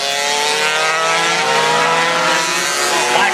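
Racing motorcycles scream past on a race track during a race, a loud, sustained high-revving engine wail that holds steady with no pause.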